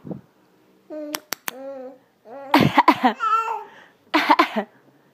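A baby coos and babbles, then lets out two short, breathy coughs close by.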